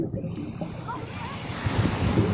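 Sea surf washes onto a beach shore in a steady, moderately faint rush, with wind buffeting the microphone and no clear breaks between waves.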